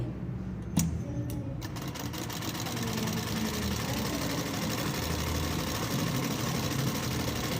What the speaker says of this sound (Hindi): अब मैं इसमें डबल सिलाई लगाऊंगी